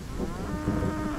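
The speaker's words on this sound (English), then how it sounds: "It's a cow." A cow in a video game gives one short, low moo lasting about a second, loud and up close. No talk is heard over it.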